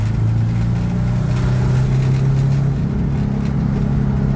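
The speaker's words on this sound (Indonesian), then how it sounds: "Ini sih bukan VW Pak, mobil drag ini." A VW Combi built as a drag car runs with its engine droning loudly and steadily close by, a strong low hum that holds throughout with no talk over it.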